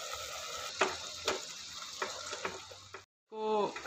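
Ginger garlic paste frying in a pan for chicken keema, a soft sizzle with a few spatula taps and stirring scrapes, quiet and close, briefly cut by a pause and then a short vocal sound.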